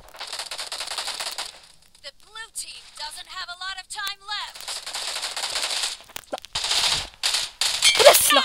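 Gunfire in the battle royale video game PUBG: rapid cracking shots in short bursts that come and go, loud and close, with a person talking in between.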